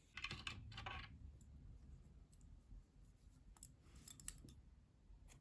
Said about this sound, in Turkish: Kırmızı ipliği kesiyorum.